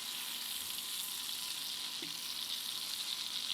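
Lemons browning in a pan alongside a chicken and white wine sauce give a soft, even sizzle, quiet and continuous, with no one speaking.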